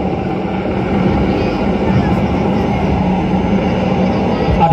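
A navy helicopter lifts off carrying marine commandos at an Indian Navy Day display at Tarkarli, Malvan: a loud, steady engine and rotor roar with voices faintly mixed in.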